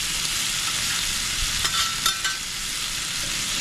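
Chicken wings fry in a hot pan with a constant loud sizzle, joined by a few brief scrapes and stirs as they are coated and turned.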